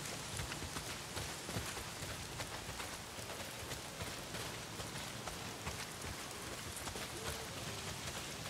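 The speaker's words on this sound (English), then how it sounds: "Well, not if it's pissing down rain." Steady, dense rain pours down without pause in the video game Days Gone, a constant hiss of drops hitting surfaces, with no voices.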